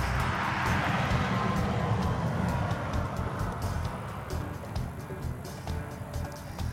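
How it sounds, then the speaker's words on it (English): Heavy trucks roll along I-65 northbound beneath the 840 overpass, a dense continuous roar of tires and engines with passing swells, loud and close, no talk over it. "Those trucks are coming up from the south, heading north towards Franklin, perhaps."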